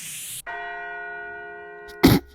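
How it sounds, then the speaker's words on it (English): A tubular bell sample from a dubstep sample pack rings out in a single clear metallic strike after a short burst of noise, sustaining with even shimmering overtones for about 1.5 seconds before a loud noisy hit cuts it off. "It's just a bell."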